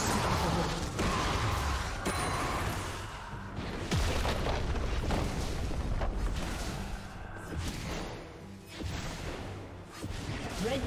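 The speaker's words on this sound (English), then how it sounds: "Red team's turret has been destroyed." A turret explodes in League of Legends amid a busy fight, with muffled booms and crashing impacts over constant game clatter, fairly quiet overall with repeated swells.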